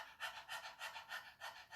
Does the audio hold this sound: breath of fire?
yes